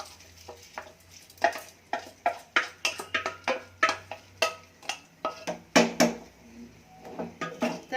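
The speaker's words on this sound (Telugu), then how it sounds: "ఇందులోకి కడిగి ఉంచుకున్న పెసరపప్పు అంతా వేసి ఒకసారి తిప్పాలి" Washed moong dal is stirred into boiling water in a pot for pesaru pappu curry, with a quick, regular series of spoon taps and scrapes against the pot over a low bubbling background and no speech.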